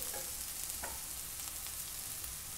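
Cluster beans fry in a pan with a constant close sizzling hiss, broken by a couple of faint scrapes as they are stirred, low in level and with no voices.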